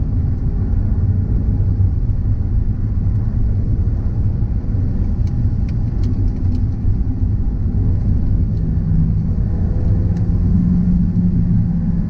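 A 1998 Ford Focus Ghia with a 100 hp 1.6-litre 16V four-cylinder Zetec engine drives along mountain and country roads, giving a steady, loud engine and road rumble that holds throughout with no talk.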